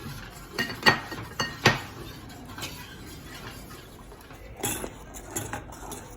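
A spoon stirring thick lasagna white sauce in a pot, with several sharp clinks against the metal early on, then softer scraping and knocks.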